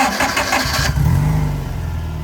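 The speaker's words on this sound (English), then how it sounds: "There's your electronic fuel pump. Car will fire right up." A Subaru-engined sandrail cranks with a whirring starter, then catches and settles into a steady, close idle.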